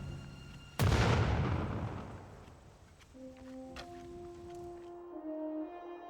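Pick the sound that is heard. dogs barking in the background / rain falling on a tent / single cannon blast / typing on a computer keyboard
single cannon blast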